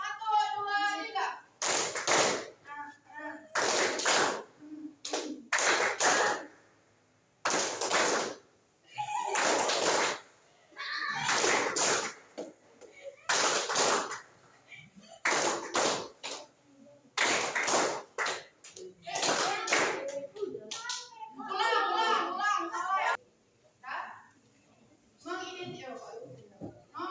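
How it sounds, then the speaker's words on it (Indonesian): A grade 8 junior high class clap in unison in repeated rhythmic bursts, a regular pattern of sharp group claps interleaved with the students chanting together and a teacher's voice. "Semua tepuk tangan."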